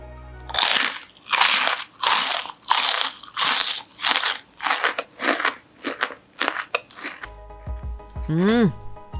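Crispy fried garlic tofu crunches loudly with each bite, a rapid series of sharp, crackling chews close to the mic, ending with a short musical jingle.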